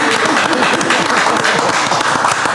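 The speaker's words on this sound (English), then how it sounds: "Can we give a round of applause to Stephen Vicker?" A studio audience and hosts applauding together on a drinking-themed talk show, a loud, continuous wash of clapping with mixed voices underneath.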